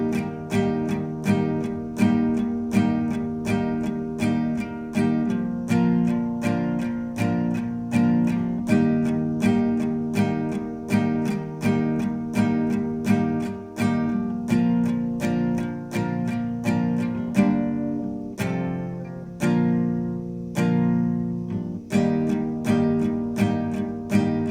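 An acoustic guitar plays the chords of a song with single down strums on each chord, a steady, close, evenly paced series of ringing strokes with no voice.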